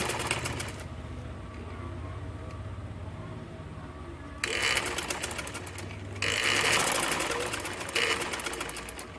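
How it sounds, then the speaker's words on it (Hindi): A sewing machine double-stitches the waistband of a ladies' shalwar, starting with a quiet low hum and then breaking into two loud, rapid stitching bursts with a short pause between them. "यहाँ से भी डबल सिलाई लगा देंगे"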